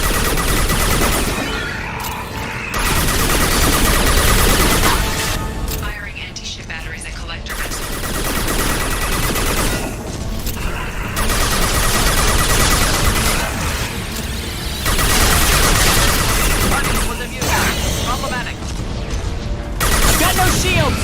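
Gunfire in the Mass Effect video game, dense bursts of shots and booms repeating across the whole stretch, loud and busy, with voices calling out between and over the firing.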